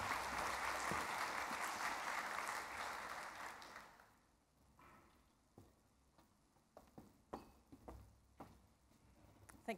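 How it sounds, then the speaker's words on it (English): An audience at a public administration event claps for a speaker, loud sustained applause for about four seconds that thins out into scattered individual claps near the end. "Please, a round of applause for the Commissioner."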